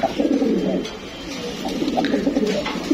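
Jabra blue-eyed pigeons coo in a series of soft, close, throaty calls repeating every half second or so, with faint background noise.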